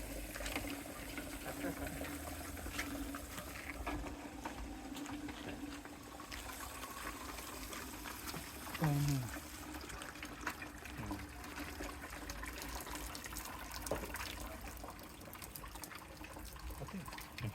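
Water drains out of soil in a farming demonstration with a steady, faint trickling and dribbling under constant background noise, while people talk nearby.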